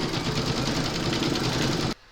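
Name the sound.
embroidery machine stitching a satin stitch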